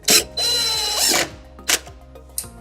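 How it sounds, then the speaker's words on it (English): A power drill drives screws down through underfloor heating panels into the subfloor, two long whirring bursts followed by a few short tightening blips, close and loud. "now all we're doing is simply screwing them down"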